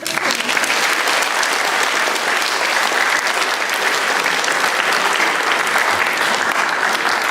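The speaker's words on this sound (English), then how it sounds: "clap your hands." An audience at a Confucius Institute Day event applauds loudly and steadily to welcome a Chinese folk music ensemble, a dense, sustained wash of clapping that holds for several seconds.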